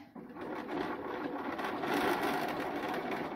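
A sewing machine runs steadily as it stitches around a shirt sleeve placket, a continuous close whirring hum that starts after a brief pause and holds evenly to the end.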